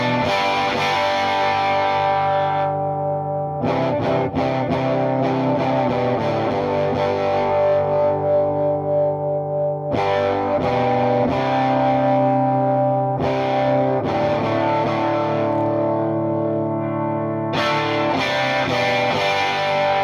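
A Fender Custom Shop 2011 Telecaster Pro electric guitar plays distorted chords on the back pickup through a grease bucket tone circuit, sustained ringing strums with brief gaps between phrases, loud and close with no talking.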